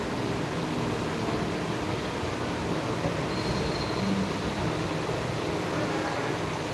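Inside an almost empty Mumbai local train on the move, a constant low rumble and hiss of wheels and carriage fill the space, steady and unbroken, with no talking.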